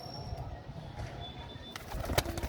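Soft cooing of pigeons on a rooftop perch over a low, murmuring background, with a few brief higher chirps and rustles toward the end.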